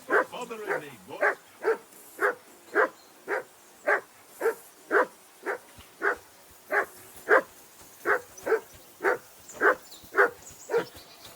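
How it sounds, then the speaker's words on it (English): A dog in Kingdom Come Deliverance 2 barks repeatedly in a steady, evenly spaced rhythm, about twenty sharp barks at moderate distance with little else around them. "I assume you can hear that damn dog of yours barking."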